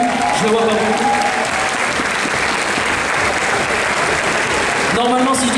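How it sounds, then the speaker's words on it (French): An audience gives dense, steady applause at a cosplay solo contest awards ceremony, loud and sustained for several seconds, with a voice heard briefly at the start and end. "je vous demande encore de les applaudir"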